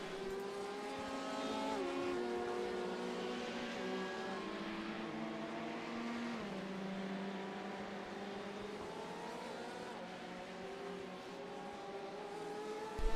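GT race cars thread through a chicane at the Indianapolis circuit, several engines droning and shifting pitch as they brake and accelerate, heard from a distance in a continuous layered hum.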